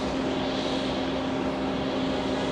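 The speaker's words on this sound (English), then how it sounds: "Another 263 flying in from Paris. Charles de Gaulle Airport in Paris, France. 7 hours, 38 minutes of flying time. That's an A330-900. This is the Neos." A Neos Airbus A330-900 airliner on approach to land at JFK, a loud continuous jet engine roar with a steady tonal hum, unbroken throughout.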